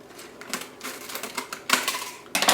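Scissors snip into a sheet of parchment baking paper while lining a cake pan, a series of crisp, papery crunching cuts in uneven bursts, close and fairly loud.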